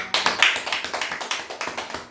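Church congregation claps in unison during a Baptist service, a steady rhythmic series of about fifteen sharp claps over two seconds, close and fairly loud with no talking.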